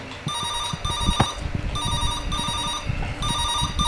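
A telephone rings in repeated electronic bursts inside the creepy horror game Cat's Cradle, loud and clear with low thumping noises beneath and no talk.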